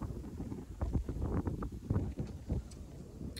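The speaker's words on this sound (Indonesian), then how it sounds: "Jadi mungkin nanti di suaranya mungkin ada suara-suara angin." Outdoor wind in the Kalome district of Papua, gusting in uneven buffets against the microphone, low and rumbling with bursts of louder blowing over several seconds.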